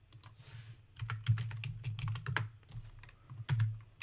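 Quick bursts of typing on a computer keyboard while entering a value in Fusion360, close crisp key clicks in uneven clusters over a faint low hum.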